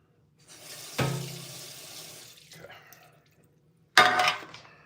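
Kitchen tap running over chicken pieces in a sink: water gushes on for about a second and a half, fades, then returns with a louder splashing burst, all close by.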